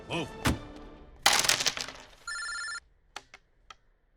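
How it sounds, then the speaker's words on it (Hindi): A short electronic telephone ring sounds amid clattering and crashing noises, with brief bursts of voices around it. "सिकंदर का फोन है"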